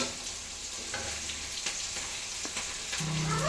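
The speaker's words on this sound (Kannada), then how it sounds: "ರೋಸ್ಟ್ ಆಗಬೇಕದು ಈರುಳ್ಳಿ ಮತ್ತು ಮೆಣಸಿನ್ಕಾಯಿ ಎಲ್ಲ." Onions and green chilies frying in a pan for poha upma (avalakki uppittu), giving a steady, close sizzle that runs unbroken throughout with no talking.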